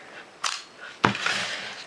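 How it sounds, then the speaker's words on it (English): Pentax K film camera having its mirror and shutter fired with the lens removed: two crisp mechanical clacks about half a second apart, close and fairly loud, the second sharper. "Operate the mirror and shutter."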